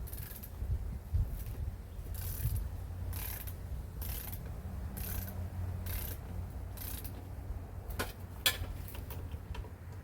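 Torque wrench tightening four bolts to 5 foot-pounds during a 1965 Ford Thunderbird rebuild, giving faint, closely spaced ratcheting clicks in short bursts over a low background hum.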